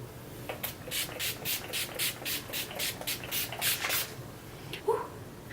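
About a dozen quick hissing spritzes of a makeup setting spray bottle fired in rapid succession, close and fairly soft, followed by a brief rustle.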